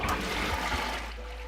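Thick, foamy shampoo mixture of Moroccan Atlas clay blended with castor oil pours in a steady close liquid stream, softening slightly toward the end.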